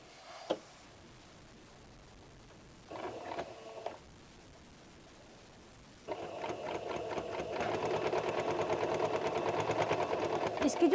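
A sewing machine stitches a cotton cap for a three- to four-year-old child, running in short bursts before settling into a steady, continuous whir, close and moderately loud.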